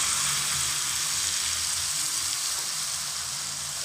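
Lobster prawns fry Kerala style in hot oil, giving a continuous, even, close-up sizzle with a dense crackle that stays steady throughout.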